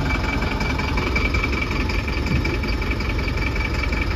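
A vehicle engine runs steadily and loud throughout, a low rumbling drone with a slight knocking texture and constant vibration, with no talk over it.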